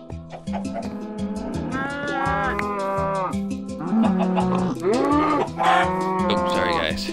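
A cow in the Minecraft video game moos repeatedly, several loud drawn-out lowing calls in quick succession, some overlapping, close and clear with no talk.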